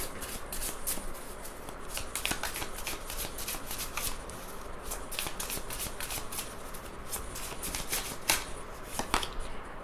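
Tarot cards being shuffled by hand: a close, continuous flutter of rapid crisp card clicks that keeps going for about ten seconds.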